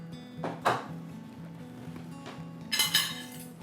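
Metal forks scrape and clink against a plate while pork carnitas are moved from a slow cooker, with two short clattering bursts separated by a quieter stretch under a steady background hum.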